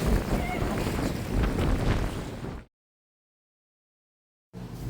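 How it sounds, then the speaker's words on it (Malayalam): Strong wind at Puri beach in Odisha buffeting the microphone with loud rumbling gusts, cutting to silence partway, then briefly returning. "ഫുള്ള് കാറ്റാണ് കണ്ടോ എന്ത് കാറ്റാണ്"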